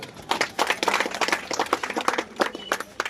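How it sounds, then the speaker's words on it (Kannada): Audience applause at a felicitation ceremony honouring guests, heard as scattered, uneven clapping with irregular bursts rather than a full ovation, at a moderate distance. "ಚಪ್ಪಾಳೆ ಬರಲಿ"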